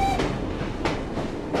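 A train moves along rails in the video game Assassin's Creed Syndicate, a continuous rumbling roll with periodic clickety-clack bursts from the wheels, steady and fairly close, with no talking.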